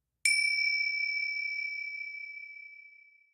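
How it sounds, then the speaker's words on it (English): A single clear bell ding rings out once, bright and sustained, then slowly fades away into silence. "every time you hear a bell like this"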